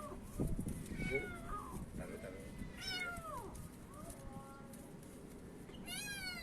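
A kitten trapped inside a pipe lets out a series of thin, rising meows that sound echoey and muffled, mixed with scraping noises and background voices of rescuers talking.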